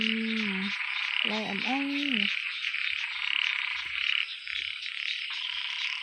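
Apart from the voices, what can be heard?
small frogs croaking at night in the rain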